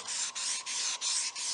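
Steady scratchy sanding on a cherry wood table top in long back-and-forth strokes, about five passes with short pauses between, close and fairly quiet.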